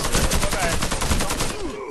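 Gunfire in the first-person shooter Warface, a rapid, continuous burst of loud automatic shots echoing up close for under two seconds.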